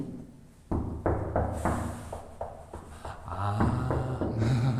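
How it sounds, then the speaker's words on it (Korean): Several dull, hollow knocks tap out an irregular rhythm on floor tiles, checking for loose, lifted tiles, close and fairly loud, with faint rustling between strikes. "이게 쿵쿵 울리면은 타일이 뜬 거죠"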